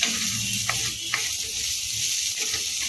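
Onions sautéing in butter in a pan on medium heat for a vegetable pasta soup, a steady close sizzle with a few soft stirring scrapes and no talk.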